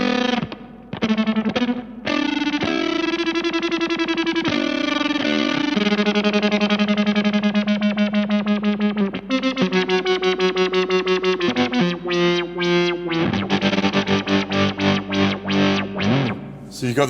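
An electric guitar through a Dreadbox Treminator envelope-controlled tremolo pedal pulses rapidly, the wobble speeding up and slowing with playing dynamics, heavily processed and driven, with brief pauses between phrases.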